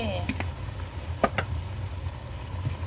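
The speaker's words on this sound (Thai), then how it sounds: "แล้วก็ผัดคลุกเขาค่ะ" Chicken seasoned with salt is stir-fried in a pan for a Korean-style clear soup, giving a soft, steady sizzle with a few sharp scrapes and clinks of stirring and no talk.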